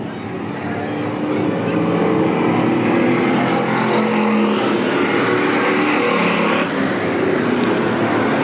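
Sportsman division race cars on the oval at Eugene Speedway in 1987, a loud continuous roar of several engines building and holding as the pack passes, with a faint announcer voice underneath.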